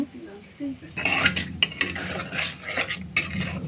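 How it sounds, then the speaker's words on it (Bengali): A spoon clatters and scrapes in a cooking pot as nutmeg and mace paste, chili powder, almond and poppy seed pastes are stirred in for shahi chicken pulao, with busy irregular metallic strokes following a brief quiet start. "জয়ফল জয়ত্রী বাটা 1 চামচ, মরিচের গুঁড়া 1 চামচ দিয়ে ভালোভাবে নেড়ে চেড়ে নিচ্ছি"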